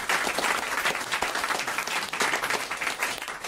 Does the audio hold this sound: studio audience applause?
yes